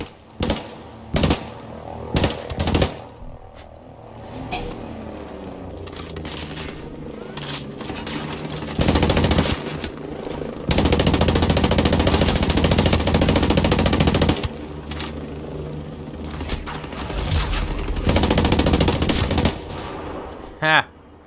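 Bursts of automatic gunfire from the SC 40K rifle in the video game Ghost Recon Breakpoint, with loud rapid strings of shots and short single shots separated by quieter gaps where faint speech can be heard.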